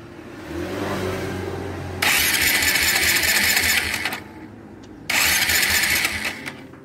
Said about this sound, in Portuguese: Se der partir da moto, já pega.